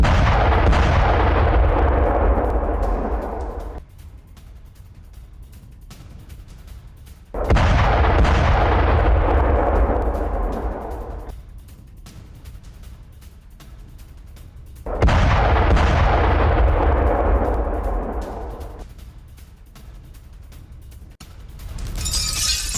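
Heavy explosive blasts from a Russian drone attack on Ukrainian soldiers laying mines near Kharkiv: three loud booms, each with a long rumbling decay, spaced several seconds apart, with no voices.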